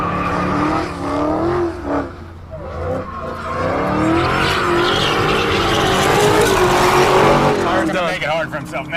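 A 1963 Chevy Impala does a burnout, its engine roaring loud and steady while the tires squeal and screech continuously over several seconds, with people talking underneath.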